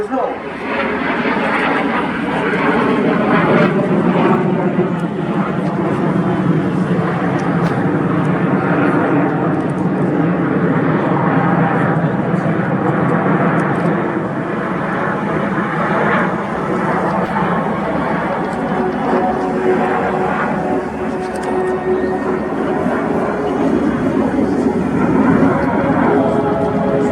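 Frecce Tricolori jets flying a barrel roll in their display at the RIAT 2025 air show: a loud, steady roar of jet engines that lasts the whole time, with some talk mixed in.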